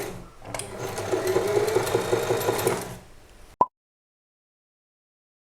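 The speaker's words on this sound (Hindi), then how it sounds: "जब आप फुट पैडल को ऐसे प्रेस करोगे तो मशीन जो है वो चलना स्टार्ट हो जाएगा।" Usha Allure Dlx sewing machine run by foot pedal hums and clatters steadily at close range for about three seconds, then stops abruptly with a click, followed by silence.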